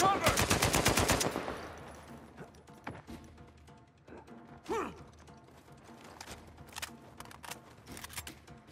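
Gunfire in the Uncharted 4 video game: a rapid automatic burst opens loudly, then scattered single sniper-style shots and impacts crack out over a busy combat soundscape.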